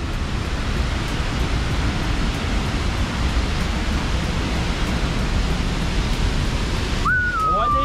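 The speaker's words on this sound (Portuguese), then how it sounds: "Olha a pressão da água." The Cachoeira do Negherbon waterfall in Doutor Pedrinho, Santa Catarina, roars as a constant loud rush of water, with a brief whistling tone near the end.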